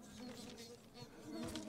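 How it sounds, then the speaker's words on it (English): In Ghost of Tsushima, insects hum in a soft, steady buzz that wavers slightly over a short stretch, fairly faint and with no talk. "I did hear noise, but it was all this buzzing."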